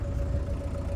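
A 1991 VW Doka Syncro 4x4 three-door truck idling, a steady low rumbling engine hum with a faint whir, even and unbroken through the short moment.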